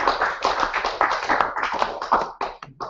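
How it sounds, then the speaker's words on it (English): A small audience at a chess championship gives a short round of applause, fairly close, with quick uneven hand claps that taper off after about two and a half seconds. "Round of applause for our friend there."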